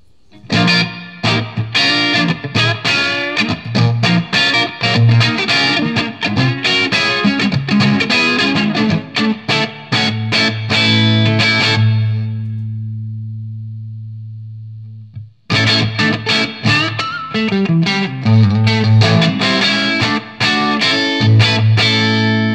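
Electric guitar played through a Mesa Badlander 50 amplifier with heavy DelVerb reverb, loud strummed and picked notes, a sustained chord ringing out and fading, a brief silence, then renewed playing.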